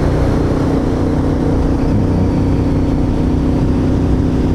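Royal Enfield Meteor 350 single-cylinder motorcycle engine while cruising on a road trip in Wales, a steady low drone with rushing wind noise, constant and close with no talk.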